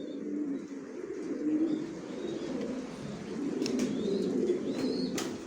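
Racing pigeons coo in a loft, a low, steady, rolling murmur of overlapping coos nearby, with a few thin chirps breaking through toward the end and no talking.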